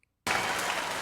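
Sudden burst of audience applause at a stand-up comedy show, starting abruptly after a brief silence and continuing as a dense, steady wash of clapping.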